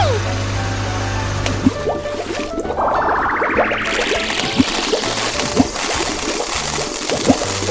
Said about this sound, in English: Water tank truck.